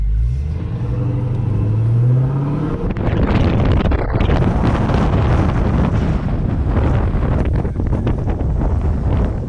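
Engine of a 1000-horsepower Dodge Hellcat by a trailer starting with a rising whine, then catching into a loud, rough, continuous rumble up close with heavy wind buffeting, no talk.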